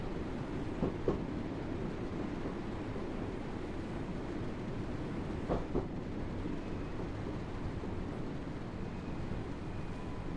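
A train in the video game Train Sim World, on the Isle of Wight line, rumbles along steadily with a constant low roar, and a few faint clicks from the rails sound now and then.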